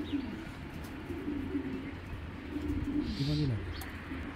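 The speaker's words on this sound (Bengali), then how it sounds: "এটা কিন্তু একটা বাচ্চা কবুতর" A young Sapchila pigeon gives soft, rolling coos at close range over a low, steady background hiss.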